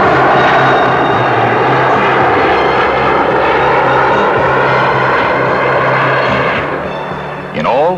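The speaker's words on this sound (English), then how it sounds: "Helicopter, hovering like a giant dragonfly, continues the unusual airlift, depositing her cargo of steel section by section atop the steadily growing tower" A helicopter hovers overhead during a steel airlift to the top of Toronto's CN Tower. It gives a loud, steady engine and rotor roar, and someone narrates over it throughout.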